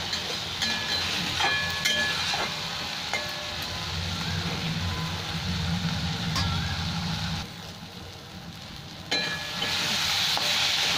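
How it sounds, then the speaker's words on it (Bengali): Hot water hitting a pan of sizzling fish curry masala with potato and tomato, a steady crackling fry with stirring and clinks, briefly quieting before the sizzle surges back. "এবার আমি জল গরমটা দিয়ে দিলাম মধ্যে"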